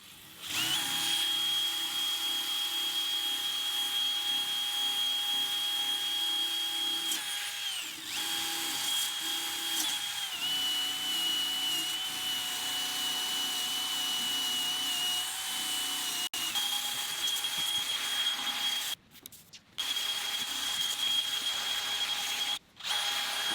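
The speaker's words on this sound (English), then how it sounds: "So I was able to remove most of that rust with the wire disc." A wire wheel on a power tool scrubs rust off metal, a loud, steady high whine with grinding friction that runs nearly continuously, briefly dipping near the end.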